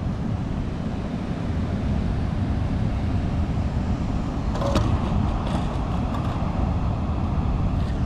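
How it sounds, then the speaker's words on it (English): Ocean surf rolls in at a beach where a surfer waits for a set, making a constant broad roar with wind noise. The sound stays even throughout and is heard alone without voices. "I'm waiting for a good set of waves coming in"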